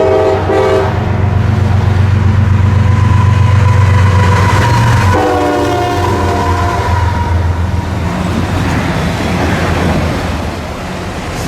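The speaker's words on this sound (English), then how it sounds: "The last M209 that I would be seeing would have CSX 1982, the Seaboard system heritage locomotive." A southbound CSX M209 freight train led by the Seaboard System heritage locomotive passes in Southeast Michigan, loud and close, with a long blaring multi-tone horn and then the heavy roar and rumble of the passing cars.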